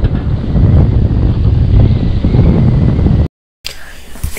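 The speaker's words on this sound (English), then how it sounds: "The wind was terrible right here" Strong wind buffets a microphone on a boat during a bass fishing tournament on the Satilla River, a loud continuous low rumble with a brief cut to silence near the end, with speech likely mixed in.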